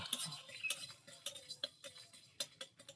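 Spice mix is dry-roasted in an oil-free pan, giving a quiet run of scraping stirs and light metallic clinks and taps in an irregular rhythm, close by and faint.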